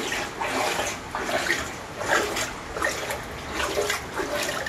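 Floodwater covering the floors inside a house sloshes and splashes close by in repeated surges, like steps wading through it, with a constant watery wash between them.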